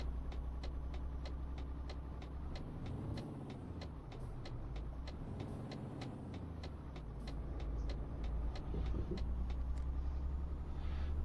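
A heavy truck engine in Euro Truck Simulator 2 rumbles low and steady while the truck circles a roundabout, with a regular ticking running alongside and the engine swelling louder toward the end.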